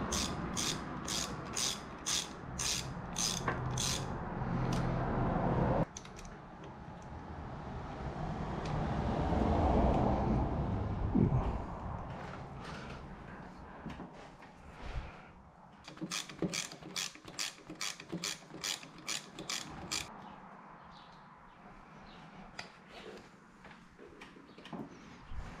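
Hand ratchet loosening bolts on a Harley Sportster, clicking in quick close strokes at the start and end with a duller stretch of handling noise in between.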